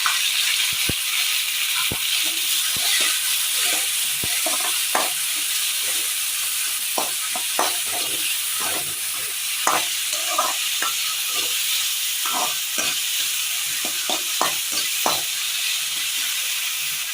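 Chopped tomato frying with wilting onions in a pan for a Kerala pearl-spot fish curry: a steady background sizzle and hiss punctuated by irregular sharp spatters and scraping stirs, close and moderately loud, with no voices.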